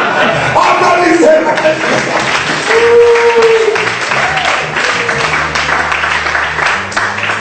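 Church congregation clapping and calling out in a loud, lively mix, hand claps blending with raised voices and shouts that carry on across the whole stretch.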